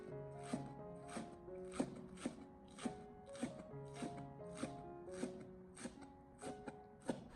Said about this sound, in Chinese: 而剩下的葱叶，我们将它改刀切成小葱花